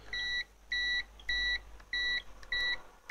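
A multimeter gives continuity-test beeps while probing an LED matrix display's rows and columns: five short, clean electronic tones repeating at an even pace, moderately quiet, with no speech.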